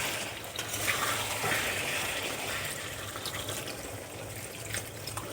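Water pours into a pan of potato and cauliflower curry in an egg dish, a close, steady gushing splash over a faint background sizzle, lasting several seconds with no talk.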